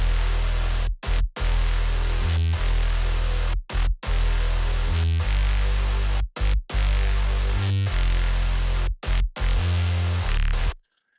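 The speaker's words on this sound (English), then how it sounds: "So with this guitar, it sounds like this." A heavy guitar part from a metal music track, loud and dense, chugging through rhythmic stops and short pauses with punchy low-end hits, alone without any talking.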